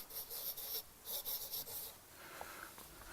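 Chalk or marker scratching across a board as a formula is written, a few short close strokes in quick bursts, fairly faint, with no talk over them.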